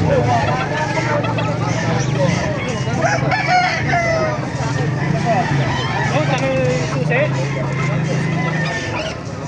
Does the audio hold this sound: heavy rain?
no